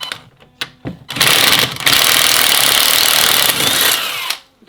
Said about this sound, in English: Somebody's using a little whiz gun, but you can just unbolt them with a ratchet if you want.